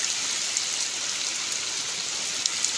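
Heavy rain pours down over an open wetland in a steady, dense, even hiss, with occasional sharper drops standing out close by.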